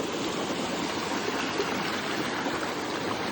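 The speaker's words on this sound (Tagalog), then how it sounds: "Grabe yung agos." A strong river current rushes in Sagada, a steady, loud broadband flow of water close by with no pauses and no voices.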